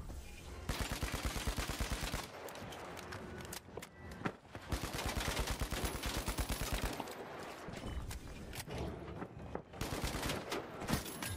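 Rapid automatic gunfire from the video game The Finals rattles in dense, sustained bursts across the whole stretch, loud and close, with brief gaps and a few heavier individual shots.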